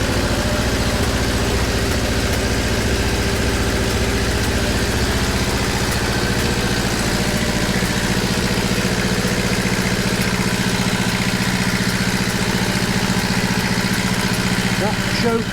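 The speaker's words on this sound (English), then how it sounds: "Popping a bit, but the rest of it sounds alright." A rebuilt Kawasaki GTR1000 motorcycle engine idles up close with a steady, continuous rumble that holds for the whole stretch, with any popping blended into the even drone.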